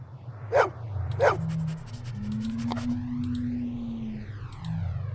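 Dog barks inside the Blade Runner video game, two sharp close barks followed by game music with a sustained tone and sweeping electronic sounds.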